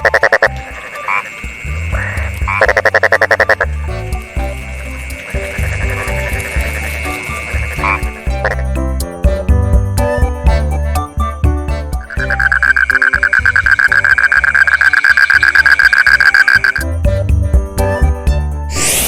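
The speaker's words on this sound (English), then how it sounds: "Frog." A frog croaks in a loud, close, steady run of rhythmic ribbits and trills that repeat across the whole stretch, with no voices over it.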